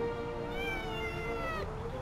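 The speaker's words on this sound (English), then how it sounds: "Why are you such a whiny cat?" A cat lets out one long, drawn-out whining meow close by, rising and then falling in pitch before breaking off sharply.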